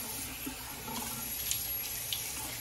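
A tap runs steadily into a sink to rinse a razor, a continuous close splashing flow with a couple of faint clinks.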